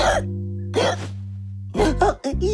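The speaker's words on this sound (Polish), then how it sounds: "Jak mam pozbyć się tej czkawki?" Cartoon hiccups in a Horrid Henry episode, sharp short vocal bursts spaced over a low steady background tone, loud and close.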